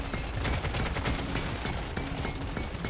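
Rapid smart pistol gunfire crackles continuously in the Deep Rock Galactic: Survivor game, a dense burst of overlapping shots and impacts that holds loud and steady throughout.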